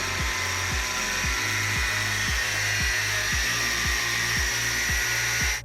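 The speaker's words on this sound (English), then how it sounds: "I'll cut the pipe lengthwise." A PVC plastic pipe being cut lengthwise with a power tool gives a steady, close, high-pitched whirring hiss that runs unbroken through the clip, with a repeating low rhythmic thumping underneath.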